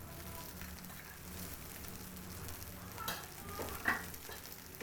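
A drumstick leaf stir-fry with grated coconut and a roasted spice powder is stirred in a pan. Soft, faint sizzling runs under occasional scrapes and taps of the spatula, with no voices.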